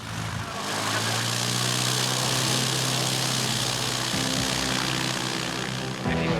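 Small propeller aircraft engine running steadily, loud and close throughout with a continuous drone and strong low harmonics, the pitch shifting slightly near the end; no talking.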